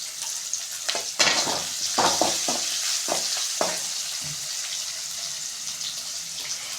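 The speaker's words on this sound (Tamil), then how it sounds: "ஸோ ஆனியனை நல்லா வதக்கிக்கலாம்." Onions sauté with salt in a pan for chicken varuval, a loud, close, continuous sizzle with several sharp scrapes and knocks of a stirring spoon early on.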